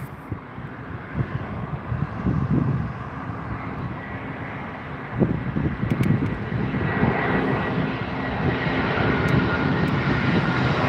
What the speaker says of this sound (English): The Finnair A320.